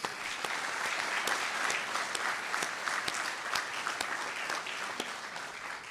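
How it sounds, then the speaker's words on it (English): Applause from the audience at a police department awards ceremony for an officer of the quarter, even and continuous with scattered sharper claps, heard at a modest distance. "Can I have a round of applause for Sergeant Masidi,"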